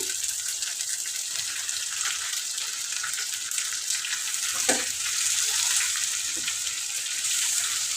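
Chicken being fried in a pan for a chicken curry, giving a steady broadband sizzle throughout, with a brief stir or clink near the middle and no talk.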